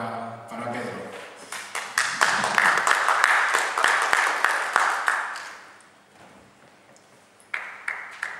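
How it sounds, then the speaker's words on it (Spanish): Audience applause at the closing and awards ceremony of a game-making contest, steady clapping for several seconds that fades out, then a presenter begins talking again. "un aplauso para Pedro."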